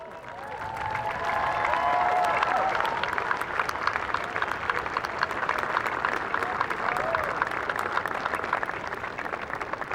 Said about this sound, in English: can you please stand and give your family, friends, and loved ones a huge round of applause